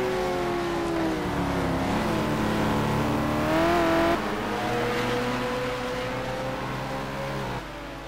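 Race cars in a simGT sim racing game at the Aldo Scribante circuit, a McLaren among them, with engines roaring and revving continuously and loudly throughout, the pitch rising and falling as cars pass.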